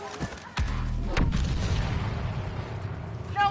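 A grenade goes off in the video game Star Wars Battlefront 2 as a heavy boom with a rumbling tail, joined by sharp blasts and continuing battle noise, with another burst near the end and no talk.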